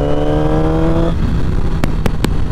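A Yamaha R6 sport motorcycle engine holds a loud, high-pitched rev that drops off after about a second into a rougher idle-like drone, with a few sharp clicks near the end, close up and without talking.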